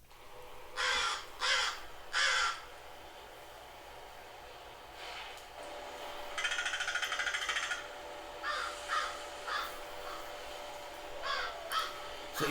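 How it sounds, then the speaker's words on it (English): Recorded crow calls play from a phone, with a series of loud caws in short bursts and one longer cawing stretch, all set against a low steady hum. "that are just straight up crow calls"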